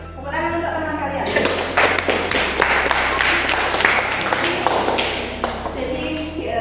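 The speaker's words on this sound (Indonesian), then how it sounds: "Tepuk tangan untuk teman kalian." Students in a ninth-grade classroom clap for classmates, a burst of close, uneven handclaps and taps that rises quickly, holds, then thins out, with a voice heard under it.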